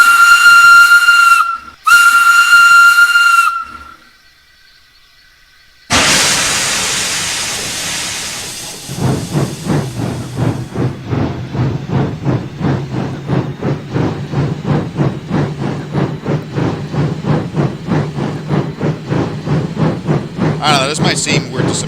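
In a steam train video game, a locomotive's shrill steam whistle sounds in two blasts, followed by a hiss of steam and then rhythmic chuffing exhaust beats as the freight train pulls away, loud and close.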